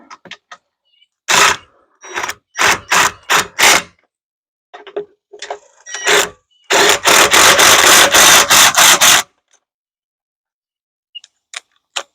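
Bolts are run down with a power tool while a Lippert 3,500 lb power tongue jack is installed on a travel trailer. Short rattling bursts build to one longer run of about two and a half seconds, then a few faint ticks.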